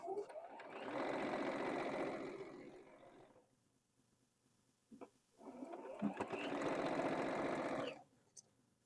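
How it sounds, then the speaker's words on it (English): A sewing machine stitching a quilted sweatshirt sleeve runs in two steady, fairly quiet bursts of whirring, separated by a short pause with small clicks and handling sounds. "you're just going to sew on the other upper side of that very first piece that you put in"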